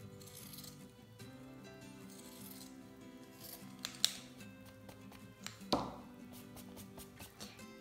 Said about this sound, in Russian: сейчас я буду вырезать по контуру ножницами зигзаг.